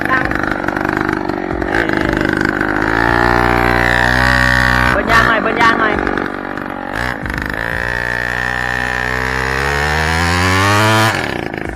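A motorbike fitted with a loud aftermarket exhaust revs loudly and close up, its raspy exhaust note rising and falling in pitch, with voices occasionally mixed in.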